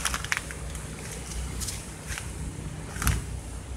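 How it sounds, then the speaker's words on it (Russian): Fallen twigs and branches crunch underfoot in storm-damaged ground after a hurricane, a few scattered crisp cracks and snaps close by, the sharpest near the start and toward the end over a soft outdoor background. "У меня под ногами хрустят ветки."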